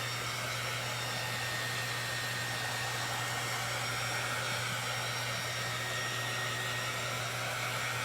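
A hair dryer drying paint on a twin bed being refinished runs as a steady, continuous whoosh with a low motor hum, loud and unbroken throughout.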